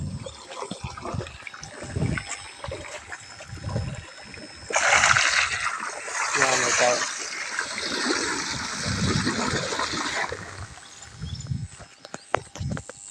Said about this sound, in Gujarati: પાણી આવે